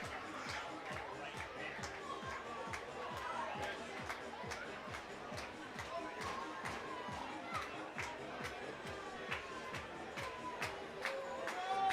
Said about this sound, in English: This crowd here in DubSea fired up.